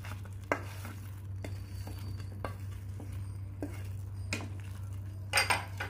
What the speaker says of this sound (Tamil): ஆட் பண்ணிவிட்டு நல்லா அதை மிக்ஸ் பண்ணிடலாம்.